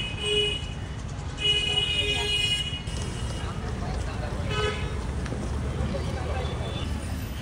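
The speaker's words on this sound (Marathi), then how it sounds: "मुंबईमध्ये लई ट्रॅफिक असतंय" Mumbai street traffic heard from a bicycle ride, with car horns tooting in short bursts over a steady road rumble, and people talking throughout.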